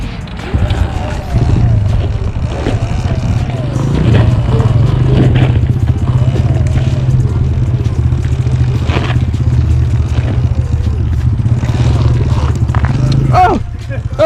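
A pit bike's engine drones steadily and loudly throughout a ride, a low continuous hum with faint clattering, ending with a brief sharp sound near the finish.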